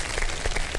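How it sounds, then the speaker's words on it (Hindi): An audience applauds an award winner at a televised iftar programme, a dense, continuous burst of clapping filling the whole brief moment. "बहुत सारी तालियां होनी चाहिए"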